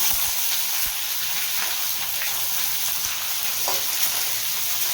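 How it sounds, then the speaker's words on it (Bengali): Chopped onion frying in a pan for a potol bhorta, a steady dense sizzle and hiss running throughout with a few faint stirring clicks, close and even, no voices. "পেঁয়াজটাকে ভেজে নেবো"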